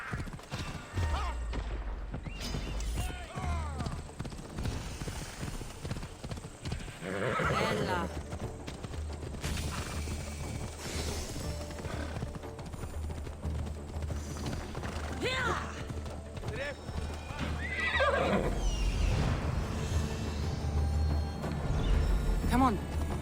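In Assassin's Creed Odyssey a horse neighs and its hooves clop in a steady run, with creaking tack and mechanical clatter over a low game music bed, while someone talks over it.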